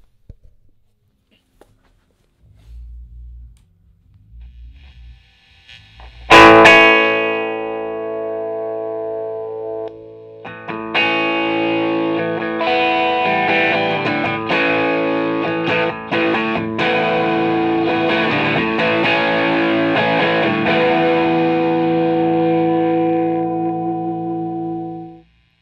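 Electric guitar played through a 1969 Marshall Plexi amp and a 1969 basket weave cabinet: a few low muted plucks and a loud crashing distorted chord, then sustained crunchy chords and riffs ringing steadily for fifteen seconds before cutting off.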